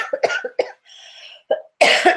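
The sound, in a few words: coughing and spluttering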